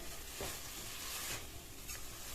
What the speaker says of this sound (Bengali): পনিরটা দিয়ে সমস্ত কিছু একসঙ্গে আবারও কিন্তু ভালো করে কষিয়ে নিচ্ছি।